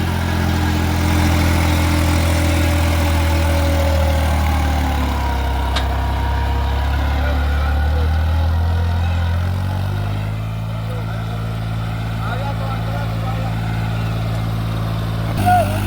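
A New Holland 3630 4x4 Super Plus tractor with an external silencer runs with a steady, loud low engine drone throughout, idling and working at constant revs, with a slight drop in tone partway through.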